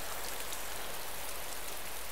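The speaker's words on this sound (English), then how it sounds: "it's pissing down with rain" Heavy rain pours steadily in the survival game DayZ, a dense, even hiss of drops on surfaces that holds unchanged throughout, with no voices.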